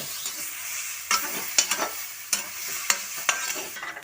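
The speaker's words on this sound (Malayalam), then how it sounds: "ഇതിങ്ങനെ തുറന്ന് വെച്ചിട്ട് ഇങ്ങനെ ഇളക്കി കൊടുത്തിട്ട് തന്നെയാണ് വേവിച്ചെടുക്കുന്നത്" Pumpkin leaf thoran being stirred in an open pan, with repeated scraping strokes of a spoon against the pan over a faint, steady sizzle; no talking.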